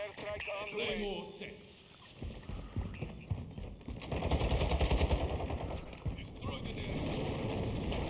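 A Warzone 2 airstrike in a video game, booming and rumbling for several seconds alongside bursts of gunfire, with people talking over it.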